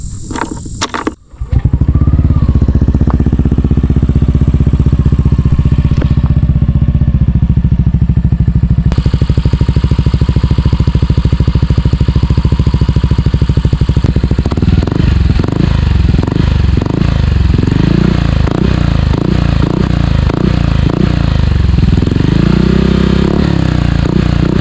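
A Yamaha Aerox 155 scooter fitted with a TRC power pipe exhaust starts up and idles loudly, then revs repeatedly in rising and falling bursts, close by and with no voices.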